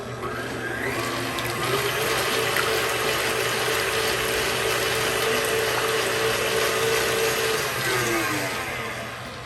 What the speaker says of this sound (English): we are going to continue to let the KitchenAid to mix this all together